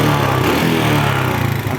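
A 2007 Suzuki Smash motorcycle engine cranks and catches, settling into a steady, loud, close mid-pitched idle with a brief dip in pitch partway through.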